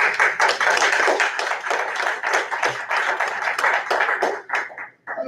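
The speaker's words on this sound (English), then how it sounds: "I don't need no applause." A council meeting audience gives a round of applause, dense fast clapping from many hands that runs steadily for about five seconds before thinning out at the end.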